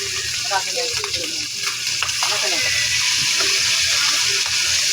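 Hot cooking oil spatters and sizzles steadily as chicken adobo (adobong manok) is sautéed, with stirring and clinking nearby and people talking in the background.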